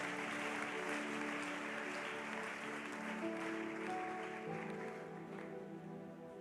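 A church congregation applauds during a French-language sermon, a dense, sustained wash of clapping heard from within the hall, fairly faint, with an undertone of voices that fades slightly toward the end.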